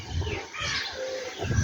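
Birds calling outdoors in windy weather, a few short chirps and coos over gusty rumbling wind, fairly faint and brief.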